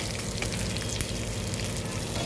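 Dried red chillies frying in oil in a pan, a dense continuous crackling sizzle, close and steady throughout with no voices.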